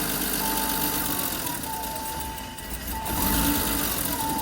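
A 1989 BMW E30 325i engine runs at a rough idle after its idle control valve is plugged back in, a steady close rumble with a faint whine and slight surging.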